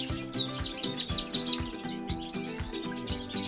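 A canary chirps and trills in quick bright bursts while a person grips it and plucks feathers from its back, with a faint musical hum running underneath.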